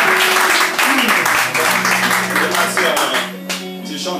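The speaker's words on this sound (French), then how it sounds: "Nous pouvons acclamer pour le Seigneur" Congregation at a Saturday evening praise and worship service applauding and cheering, a dense steady wash of clapping with crowd voices and sustained tones underneath, loud and close throughout.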